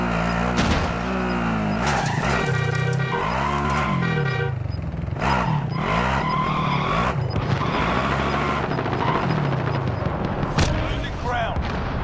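A vehicle being driven in the video game Warzone, with a revving engine and skidding tires amid game effects and horn-like tones, loud and continuous, overlaid with in-game voices talking.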